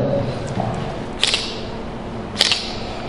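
Camera shutter demonstrated at a basic photography seminar, firing two sharp, close clicks about a second apart over a quiet room hiss.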